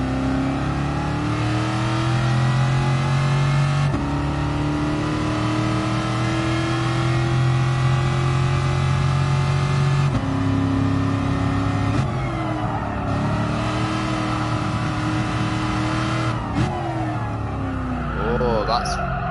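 Shelby Cobra 427, a four-speed car, in a classic Le Mans time rally racing game, its engine revving loudly and continuously, pitch climbing and dropping through gear changes, close and dominant for the whole stretch.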